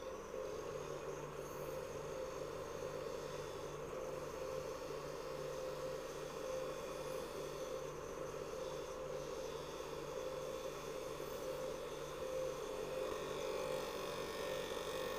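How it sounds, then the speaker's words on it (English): Wood lathe spinning at 3000 rpm while a spindle gouge faces and cuts into a disc, giving a steady, loud continuous hum with a constant tonal drone and no pauses throughout. "You can hear and feel right when it starts to cut the disc."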